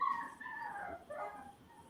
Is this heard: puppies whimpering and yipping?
yes